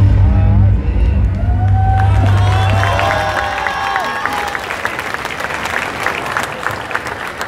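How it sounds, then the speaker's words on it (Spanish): Audience applause and cheering at an outdoor Day of the Dead dance performance in a town plaza in Tuxpan, a dense, sustained clapping crowd with a loud opening that eases slightly while a voice and music linger early on. "El aplauso de reconocimiento para la Academia SEA y por su interpretación de Bailables de Día de Muertos."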